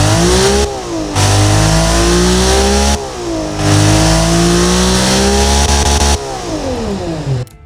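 A BMW S50B30US inline-six engine in the Automation car game revs loudly in three long sweeps, its pitch rising and falling with each pull and short dips between them, alone with no talk.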